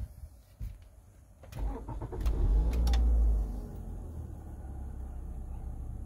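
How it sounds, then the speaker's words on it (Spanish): A 2006 Toyota engine cranks and starts after a maintenance-light reset, with a loud starter surge lasting a second or two before settling into a steady, low idle hum close by. "Ahí lo suelto y enciendo. Enciende vehículo."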